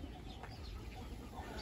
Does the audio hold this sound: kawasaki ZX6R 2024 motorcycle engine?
no